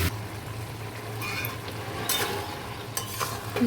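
Food sautéing in a pan, a soft, continuous sizzle with a low hum beneath it and a few faint scrapes of stirring scattered through.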